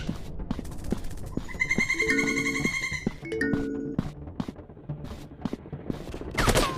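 Gunshots in a PUBG-style first-person shooter game, sharp single shots and short bursts cracking close by, mixed with game sound effects and musical tones.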